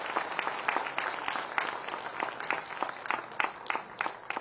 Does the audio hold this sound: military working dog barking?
no